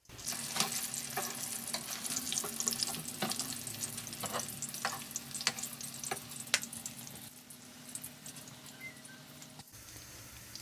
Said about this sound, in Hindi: इसी तरह हम ये दूसरी तरफ से भी गोल्डन कलर आने तक फ्राई कर लेंगे।